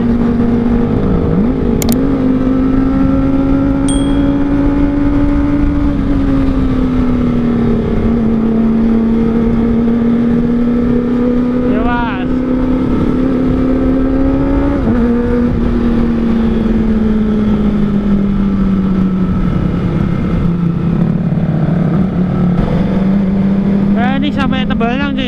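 A Kawasaki ZX25R fitted with an R9 Zeta exhaust drones loudly and continuously while riding, engine pitch rising and falling through gear changes, with faint wind and traffic around.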